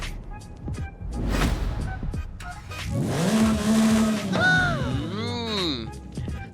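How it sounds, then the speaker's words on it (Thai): A Porsche 911 GT3's flat-six engine in Forza Horizon 5 cranks and fires up, revving hard with rising and falling pitch, loud and close, while someone talks over it. "เสียงโหดจริงๆ นะนี่ก็จะเป็นเครื่องยนต์ 6 สูบบ็อกสเตอร์เลยนะ เป็นสูบนอนนะสำหรับเจ้าพอร์ชคันนี้นะ"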